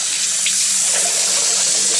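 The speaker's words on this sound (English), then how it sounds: "just fill it with water" Water runs steadily from a kitchen tap into a sausage casing for soppressata, a loud, continuous hiss and splash with no breaks.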